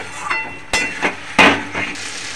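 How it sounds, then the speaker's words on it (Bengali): Fried potatoes stirred into spice masala in a pan for Bengali shol fish curry, with a few sharp clinks and scrapes of a utensil against the pan over a soft sizzle, close by. "দিয়ে আবার একটুখানি আলু দিয়ে মশলাটাকে ফের একটু কষিয়ে নেব।"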